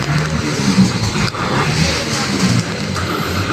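Cars idle and rev steadily in a jammed line of traffic on flooded Quirino Avenue in Manila, engines rumbling up close and fairly loud with no pauses.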